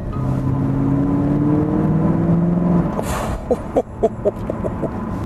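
A Mercedes-Benz 560 SEC Koenig widebody drives along with a steady engine hum that rises in pitch. A few clicks and knocks follow near the end.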